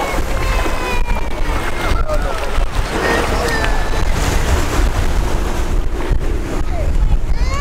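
Ocean surf rolls onto a Portuguese shore near Portimão, a loud continuous wash of breaking waves buffeted by wind noise on the microphone, with people talking over it.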